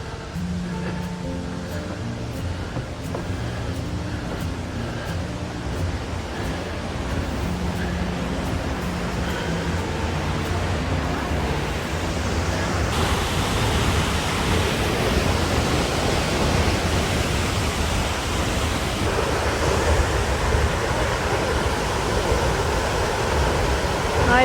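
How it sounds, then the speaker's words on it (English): High Falls, Minnesota's tallest waterfall on the U.S.-Canadian border, roars as a steady broadband rush of falling water, growing louder and fuller partway through and continuing alone without talk. "High Falls, the highest fall in Minnesota, on the Canadian border."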